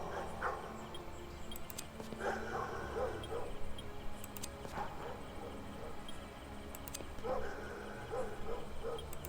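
A dog barks and yips in the video game The Myth Seekers 2, short repeated barks in faint bursts mixed with clip-clopping footsteps and ambient game noise.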